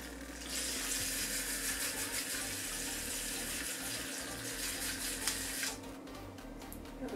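Makeup brush dipped into water in a Stylpro brush-cleaning bowl and spun, making a continuous close whirring, splashing rush that cuts off abruptly near the end.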